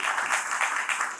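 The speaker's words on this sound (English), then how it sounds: "let's give them a round of applause for it" A short, dense burst of applause from a crowd, steady and fairly loud throughout.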